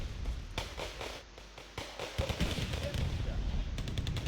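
A dense barrage of artillery impacts in a tank video game, a rapid rolling string of close explosive cracks and booms that thickens toward the end, with talk underneath.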